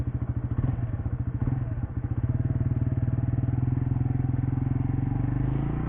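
A 2020 Suzuki GSX-R 150cc sport motorcycle with fairing pulls away in first gear on a test ride, its small engine thrumming in a rapid steady pulse that rises in pace, close and loud.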